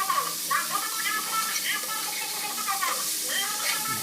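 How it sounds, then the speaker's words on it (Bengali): Broiler chicken meat fries in a pan with a bright, continuous sizzle and crackle, pulsing gently as the pieces are stirred and turned, close and steady throughout. "হালকা করে আমি ভেজে নিব মাংসগুলো"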